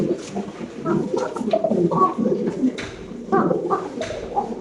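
Pigeons, a male and a female, coo softly in repeated rolling phrases that overlap one another, close by and moderately quiet with no talk.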